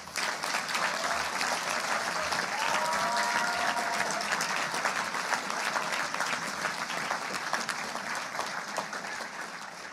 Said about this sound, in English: So I think you all deserve a round of applause for yourselves